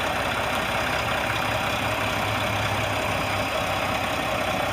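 A 2013 Mack Pinnacle CHU613 day cab's 505-horsepower turbo diesel idles steadily at close range, a constant low rumble with a faint rhythmic knock and no voices over it.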